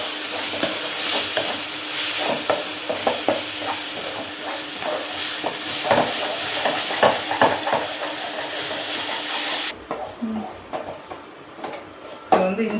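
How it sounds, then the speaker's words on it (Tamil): Ginger garlic paste sautéing in a pan for a duck curry, a steady close sizzle with scraping stir strokes throughout, cutting away near the end to quieter, sparser frying sounds. "பச்சை வாசனை போகிற அளவுக்கு நம்ம வதக்கிடலாம்."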